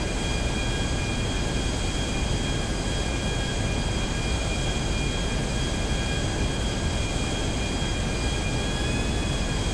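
A plane flying in GTA Online gives a steady, unbroken engine drone with a high whine running through it, holding an even loudness throughout, close up and with nobody speaking.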